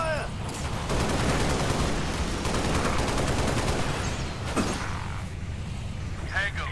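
Continuous enemy gunfire in Halo Reach rattles steadily throughout, dense and close, with a voice speaking over it.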